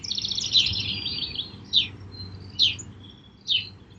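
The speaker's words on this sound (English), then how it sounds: "hearing diverse bird songs may help increase our happiness" Wild birds sing outdoors: a bright trilled phrase opens, then three short, sharp chirps follow at steady intervals, fairly close and clear over a low, constant background rumble.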